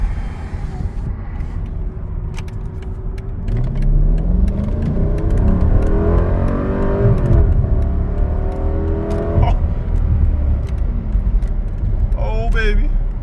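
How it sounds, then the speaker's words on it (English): A 2002 Mercedes-Benz S55 AMG with its M113 V8 engine accelerating hard from inside the cabin, a deep rising rumble that climbs steadily in pitch over several seconds, with a brief voice near the end. "I'm gonna close the window so you guys can hear the V8 sound."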